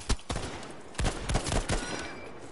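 M1 Garand rifle shots in Battlefield V crack out several times at irregular intervals, sharp and fairly close amid distant battlefield gunfire.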